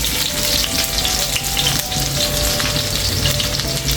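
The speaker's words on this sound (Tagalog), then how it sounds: "So magigisa na tayo ng sibuyas, bawang" Onion and garlic sautéing in a pan with chili, a dense, loud, continuous sizzle with faint stirring sounds, close up and without talk.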